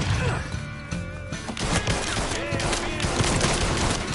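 A grenade goes off in the video game Mafia 3, with sharp crashing bursts amid rapid gunfire and clattering debris, loud and close, with voices heard through the chaos.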